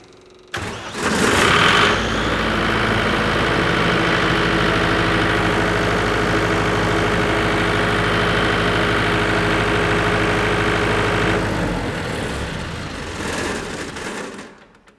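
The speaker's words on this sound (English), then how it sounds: "We're going to run the machine up and see if it comes back up to nominal" A JCB machine engine starts with a loud roar during an alternator test, then runs at a steady, even drone for about ten seconds before winding down. No speech.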